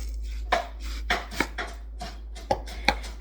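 Knife chops through an onion on a cutting board in a kitchen, about six sharp, separate thuds at an uneven pace, close by, with no talking.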